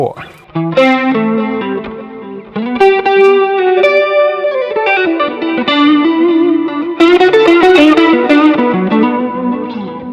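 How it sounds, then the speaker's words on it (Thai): Electric guitar played through a NUX Mighty Plug MP-2 headphone amp with a tape echo effect, loud sustained notes and chords with a distorted tone and trailing echo repeats filling the spaces between phrases. "ลองเป็นเทปเอ็กโค"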